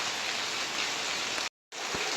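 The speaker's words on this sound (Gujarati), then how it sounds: "એટલો બધો વરસાદ આવે છે" Heavy rain falls in a steady, dense wash of noise that cuts out briefly near the end and then resumes, with no voices.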